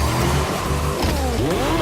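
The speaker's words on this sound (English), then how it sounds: "The roar of the engine" A car engine roaring in The Crew 2 racing game, loud and close, with rising and falling revs and a hint of tire squeal over a brief burst.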